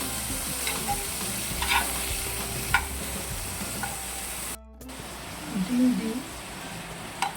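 Chicken fries in a pan with a steady hiss and crackle, soft stirring scrapes and a few louder pops, broken by a momentary dropout before the sizzling resumes.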